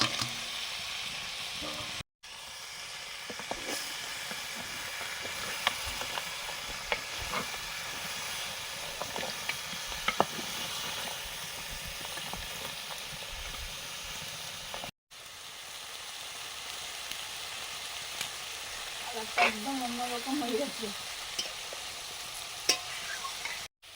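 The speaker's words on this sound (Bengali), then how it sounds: "কাঁকড়াগুলো ভেজে নিচ্ছি কিছু সময়" Crabs fry in a pan with a constant hissing sizzle, while a utensil repeatedly scrapes and stirs them, producing scattered clicks and knocks. The sound is close, with a couple of brief cuts and no talk.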